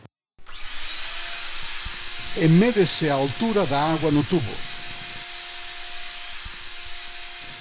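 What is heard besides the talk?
vacuum cleaner running, connected to glass water tube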